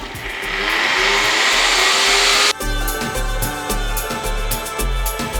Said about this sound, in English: You whack the herbs into a blender and then pop the oil in, mustard in